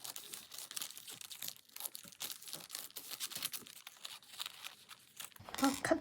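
Paper being cut and handled while making a junk journal pocket, a run of close crinkling, tearing and snipping rustles with a louder crunch near the end, no talking.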